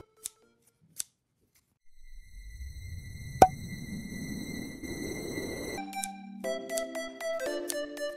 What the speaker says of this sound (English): meet thread scissors